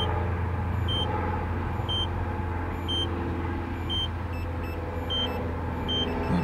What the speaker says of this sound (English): We're wondering why it's beeping like that.